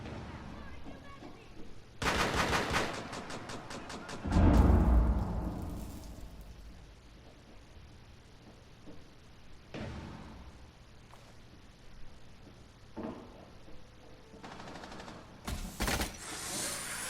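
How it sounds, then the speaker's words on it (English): A Zofia grenade detonates in a Rainbow Six Siege match, a heavy booming blast that swells and rumbles away, set among sharp bursts of rapid gunfire and other clattering shots, with fainter ambient noise in between. "that Zafia detonation is the exact reason why I say this game's kind of got a little bit of bad audio"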